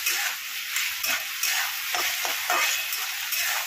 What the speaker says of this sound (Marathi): हिरवी मिरची घालून 2 मिनिटं फ्राय करायचं आहे।